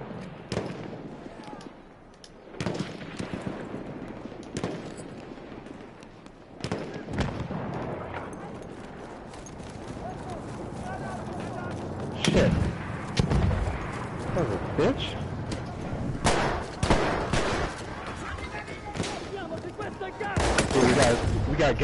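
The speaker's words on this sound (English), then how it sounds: "I'm gonna call in more artillery" Artillery barrages in Battlefield 1, with repeated booming blasts and crackling gunfire that swell louder toward the end, heard mid-battle under occasional player chatter.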